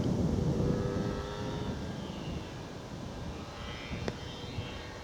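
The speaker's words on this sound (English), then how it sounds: "the motorbike in the background." A distant motorbike engine drones steadily outdoors in the countryside, a low rumbling hum that fades slightly over a few seconds, with no one speaking.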